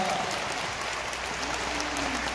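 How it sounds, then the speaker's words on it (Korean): A concert crowd at a Mister Trot trot music tour show in Seoul claps steadily, a broad even wash of applause with a faint voice underneath. "여러분 박수 한번 주십시오"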